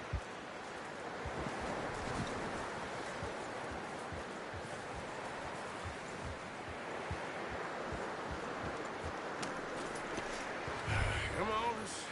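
Horse hooves clip-clopping in Red Dead Redemption 2, a steady run of soft hoof falls under wind and broad ambient noise, with a louder bump near the end.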